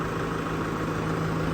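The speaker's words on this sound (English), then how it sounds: "Okay, so I turn on the engine." A Kubota tractor engine idles with a front loader attached, a steady, close, low rumbling drone with a constant hum and no change in pitch, and no voices.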